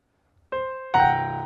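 Two piano notes in the low register from a left-hand blues bass pattern: a single note, then a fuller chord-like strike that rings and slowly decays.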